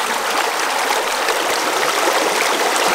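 A creek in gold country flows steadily, its water rushing and trickling in a continuous, fairly loud bright babble close to the listener, with no voices over it.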